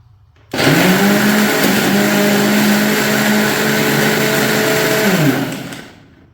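A mixer grinder runs at full speed grinding curry ingredients, a loud steady whine that starts abruptly and holds for several seconds before winding down, with no talk over it.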